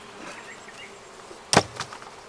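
Honey bees buzz around an opened hive in a bee yard, a continuous close hum with a sharp knock or thud partway through.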